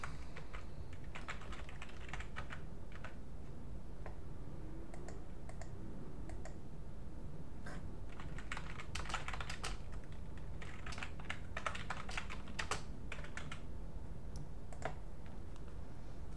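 Someone typing an email on a computer keyboard, a long run of quick, irregular key clicks in bursts and pauses, close and moderately quiet over a faint steady hiss.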